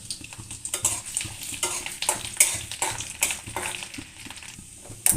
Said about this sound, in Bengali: দেখো রসুন মরিচটা ভাজা হয়ে গেছে